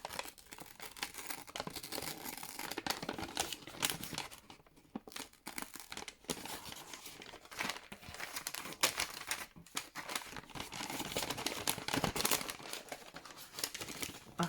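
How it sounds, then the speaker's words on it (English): Scissors fussy-cut a squirrel motif from a thin paper napkin close up, giving continuous faint crinkling, rustling and snipping with no talk. "So, if I fussy cut this squirrel,"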